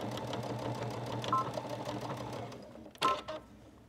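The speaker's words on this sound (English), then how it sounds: "Just go back to your machine. And just stitch a little bit, back stitch." Sewing machine back-stitching a seam on a fabric hand warmer, a steady close mechanical chatter of needle strokes that stops around three seconds, followed by a brief louder clunk.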